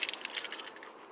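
A bunch of house keys, without a car key, jangles and clinks in quick bright rattles close to the mic, busy at first and then settling into lighter shimmering.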